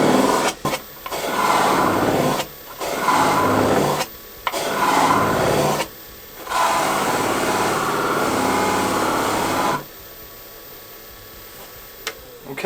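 Wooden bowl being hand-polished with wax, a steady dry rubbing and rasping in long sustained strokes broken by brief pauses, close and fairly loud, with no talking.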